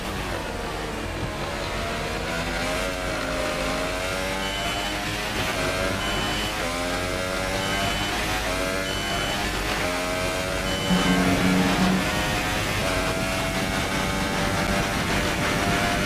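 A race car engine on a qualifying lap in a racing game whines steadily, with its pitch sweeping up and down through gear changes over a constant mid-level drone.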